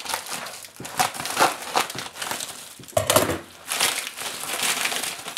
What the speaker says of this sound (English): let's take the scissors here and cut open the pack